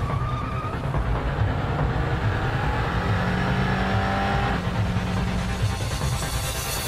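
Street racing cars with roaring engines, a loud continuous rumble of motors sustained throughout, with shifting tonal engine notes rising and falling across the stretch.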